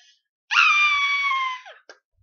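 A single high-pitched scream, loud and sustained for about a second, follows a silly version of the Row Your Boat children's song, then trails off into a small squeak.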